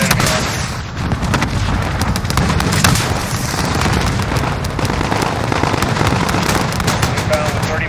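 Dense, continuous aircraft cannon fire mixed with rapid explosions and booming impacts in Call of Duty: Modern Warfare, a loud sustained barrage with a voice talking over it.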